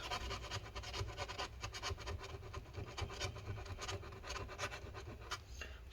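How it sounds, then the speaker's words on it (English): A scraper tool rasping at the glued battery inside a 15-inch 2012 MacBook Pro A1398, close repeated scratchy strokes in an uneven rhythm, quiet and without talk. "let's go ahead and scrape it all up again."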